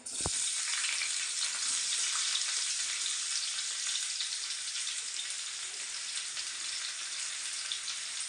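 Onions frying in a pan for bhurji, a steady bright sizzle throughout with a small clink at the start, close and continuous with no talk.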